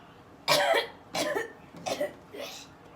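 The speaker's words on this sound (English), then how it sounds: "Now remember, on this exhalation, I want you to cough, okay?" A person coughs deliberately four times on exhalation as part of a nursing practice exam exercise, each cough a short, fairly loud burst spaced about half a second apart, fading slightly by the last one.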